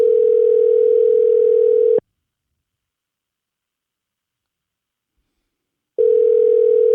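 Unanswered outgoing phone call: a steady ringback tone sounds for two seconds, breaks off into four seconds of silence, then starts again, loud and close with no voices.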